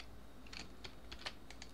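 Quiet clicks of typing on a computer keyboard, a handful of separate keystrokes scattered over under two seconds, faint and close, with no talking.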